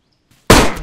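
A single sharp, loud gunshot from the video game DayZ bursts out of near silence and decays quickly over a brief tail.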